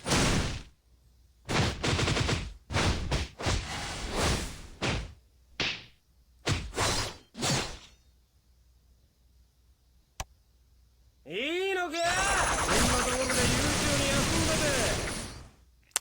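Rage attack in the Bleach game with the Christmas Grimmjow character, a series of sharp punchy impact bursts followed by a long sweeping roar of effect noise, loud and close.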